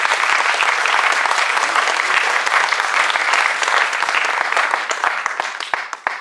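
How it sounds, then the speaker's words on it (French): Sustained audience applause at an improv theatre festival show, a dense wash of many hands clapping with no voices, steady throughout and easing slightly at the very end. "On peut l'applaudir très fort."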